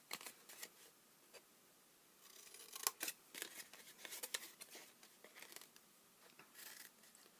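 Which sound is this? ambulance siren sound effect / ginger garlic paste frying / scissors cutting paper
scissors cutting paper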